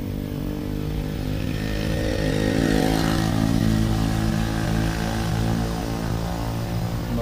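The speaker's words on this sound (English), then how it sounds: "Mopeds." Mopeds pass by outdoors, a steady engine drone that swells louder partway through as one goes past, then settles back, with no voices.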